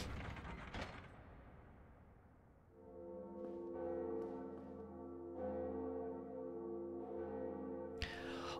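In Blighttown in Dark Souls, a lever's mechanical ratcheting clatter gives way to a deep bell ringing with long sustained resonant tones, struck again midway, ending in a sharp clank.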